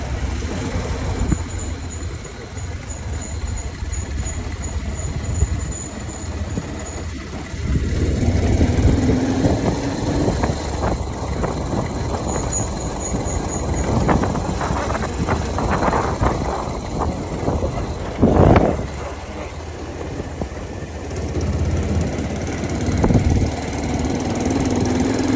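A tractor engine runs steadily at close range on a hill road, a continuous low rumble that grows louder and rougher partway through, with some mechanical knocking and vibration.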